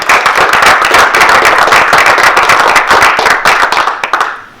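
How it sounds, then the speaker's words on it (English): Loud, dense applause from an audience thanking the speakers at a talk on remote employees, a continuous close wash of many clapping hands that fades away at the end. "let's give them a round of applause"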